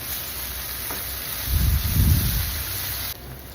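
Tomatoes frying with ginger-garlic paste in a pan, a steady soft sizzle with a low stirring rumble swelling in the middle before settling back to a quiet hiss.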